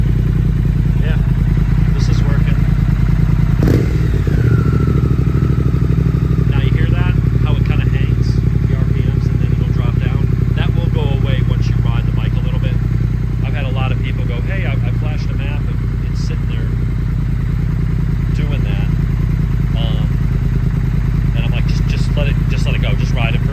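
A motorcycle engine runs steadily after an ECU tune, a loud constant drone up close with one sharp clank early on, while someone talks over it throughout.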